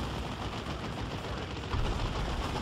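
A shuriken cannon fires in the Dawn of War 2: Retribution strategy game, a loud, unbroken rattle of rapid shots that carries on without pause and grows slightly heavier near the end.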